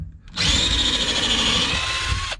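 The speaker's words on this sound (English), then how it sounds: "I'm gonna try to drill another pilot hole through the bottom." A power drill bores a pilot hole through the wooden bottom of a homemade sawhorse, one steady loud whine of about two seconds that starts sharply and cuts off, heard alone and close up.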